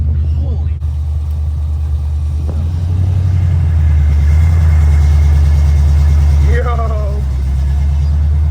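A Chevy 350 V8 running in a 1970 Monte Carlo, a steady loud low rumble throughout with a brief rev near the start and a person talking briefly over it.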